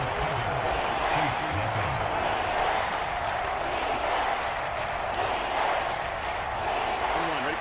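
Stadium crowd roar from a Bengals vs Chiefs EA Sports football video game at Kansas City, a steady, broad wash of noise running throughout beneath a commentator's continuous talk.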